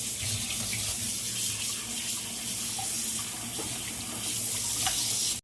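Water runs steadily from a kitchen tap while fish are washed in the sink, a constant close splashing hiss that continues without a break for the whole stretch.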